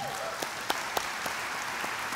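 A church congregation claps for a sermon about God's holiness. The applause is quiet and distant, a steady patter with a few sharper individual claps standing out.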